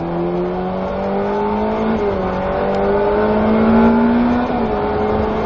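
A Ferrari F8 Tributo with a 720 hp engine accelerates hard on track, its engine note rising steadily through the revs, loud and close throughout with a brief dip as it shifts near the end.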